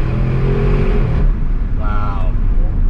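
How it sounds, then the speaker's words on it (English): A 2020 Audi RS7 accelerating hard, its engine a loud sustained roar with rising pitch heard from inside the car, steady and close throughout. "I mean, look at this acceleration."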